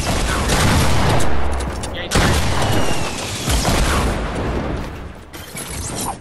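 Rapid video-game gunfire fills the scene as something is shot down, with dense, continuous bursts and booms running loud throughout and a brief break near two seconds.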